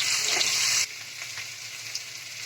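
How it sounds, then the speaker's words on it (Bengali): Boiled potatoes seasoned with turmeric and salt fry in hot oil, giving a loud, dense sizzle for under a second that then drops to a steadier, softer crackle with scattered pops. "এবার আমি আলুগুলোতে সামান্য একটু হলুদ আর এক চামচ নুন দিয়ে আমি এটা ভাজা ভাজা করে নিচ্ছি"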